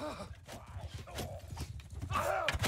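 Hooves of a horse ridden in the game Mount & Blade II: Bannerlord clip-clop in a quick repeated beat, with a brief whinny near the end, over game noise and faint voices.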